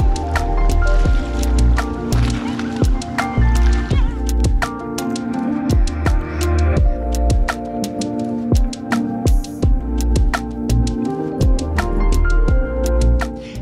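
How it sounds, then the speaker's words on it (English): Big waves on Lake Annecy slap and splash close by in a loud, steady wash, with irregular sharp sloshes and drips repeating through the whole stretch. "Oh, big waves."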